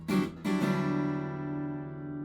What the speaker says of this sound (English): I'm taking my right hand palm and I'm hitting the strings after I strum.